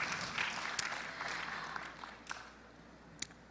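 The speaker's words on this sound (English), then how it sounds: "Please give a round of applause for our distinguished speakers" Audience at a conference ballroom applauds the speakers, a soft, somewhat distant patter of clapping with a few sharper claps standing out as it gradually thins and fades.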